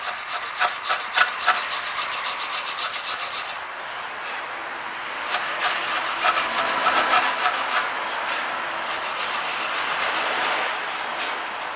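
Someone rubs dirt and grime off the rear brake hub of an Audi TT while the disc is removed, making close, rhythmic scrubbing strokes in bursts with short pauses and no talking.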